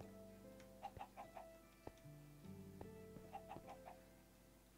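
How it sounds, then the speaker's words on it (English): Minecraft chickens cluck in short soft bursts over a steady hum of game background tones in Sky Factory 3, a few quiet clucks spaced across the moment. "And where's our third chicken?"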